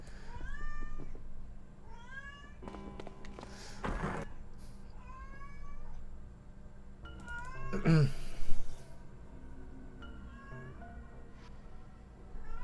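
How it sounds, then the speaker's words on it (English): A cat meows repeatedly in short, rising calls, spaced irregularly across the stretch, fairly close and clear, with a couple of brief knocks or thumps in between. "She's still doing the meowing."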